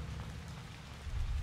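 Steady rain falls in the horror video game Haunted Memories, a soft continuous hiss with low rumbling underneath that grows slightly louder near the end, with no voices over it.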